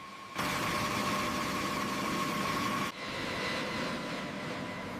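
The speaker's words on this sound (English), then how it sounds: "On a wet runway, the engines spool up, kicking up spray as the roll begins." Jet engines of a B-52 bomber spool up on a wet runway for takeoff, a loud, steady roaring whine with a sudden jump in intensity early on and a shift a few seconds later.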